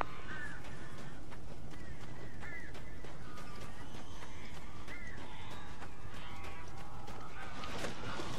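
Crows cawing in the video game Alan Wake, several harsh caws repeating at irregular intervals over a steady dense background of ambient noise, moderately loud.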